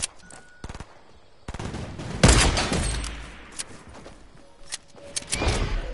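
A quad launcher fires in a video game: sharp gunfire bursts come first, then a big loud blast at about two seconds that rumbles away, with more scattered shots after it.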